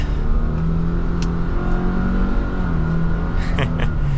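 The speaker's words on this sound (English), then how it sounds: "setting off now in the Subaru Crosstrek" A 2024 Subaru Crosstrek Limited engine pulls away and accelerates, a steady rising hum with a brief higher whine near the end.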